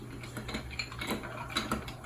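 Ice clinks and rattles in a glass as a caipirinha cocktail made with Novo Fogo cachaça is stirred, giving soft, irregular taps and chimes at low volume without talk.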